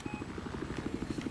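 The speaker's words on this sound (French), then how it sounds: "Bon, il était où l'hélicoptère là sur mon radar?" A helicopter in a video game flies nearby with a steady, rapid rotor thump that pulses evenly under a broad wash of engine noise.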